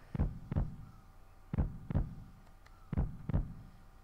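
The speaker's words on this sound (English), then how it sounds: "God, that heartbeat." Heartbeat sound effect from the video game Final Fantasy VII: three pairs of deep, thudding lub-dub beats at an even, slow pace, close and prominent with nothing else over them.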